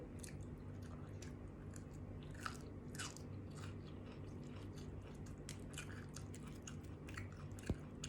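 Spicy blue crab salad being eaten late at night, with steady close chewing and crunching plus a couple of sharper bites over a constant low background hum, no talking.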